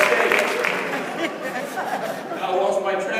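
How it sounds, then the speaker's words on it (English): A room full of people at a talk breaks into applause, a brief burst of clapping mixed with chatter and light laughter that fades and swells again. "give them a round of applause"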